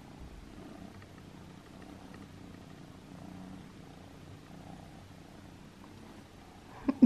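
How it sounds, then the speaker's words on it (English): Close, soft cat purring in a steady low rumble throughout, ending with a couple of brief louder bumps. "I don't know if you can hear her purring or not"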